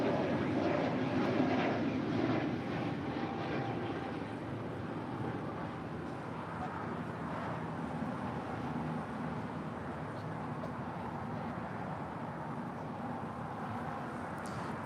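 Jet airliner departure roar at LAX, a broad steady rumble that peaks early and holds at a constant level through the whole stretch, distant and continuous with no talk over it.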